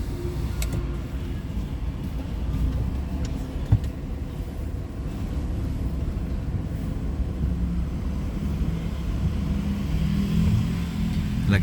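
A car parking, with a steady engine hum and low road rumble running continuously at moderate loudness, with a few faint clicks and shifts and no clear speech.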